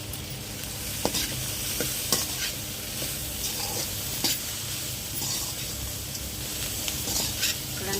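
A sizzling cowpea snack, alasanda guggillu, is stirred together with fresh coriander in a hot pan: a steady close crackle punctuated by sharp spoon scrapes and taps against the pan at irregular intervals.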